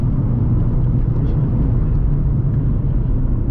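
Nissan 350Z sports car being driven hard, a loud continuous low engine rumble with steady road drone heard from inside the cabin, no clear gear changes.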